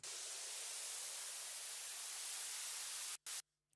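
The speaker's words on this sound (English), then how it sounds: "this is just a white noise in the background" A flat, steady white noise layer from a music production track fills the whole band at low level, then cuts out abruptly with a brief stutter near the end.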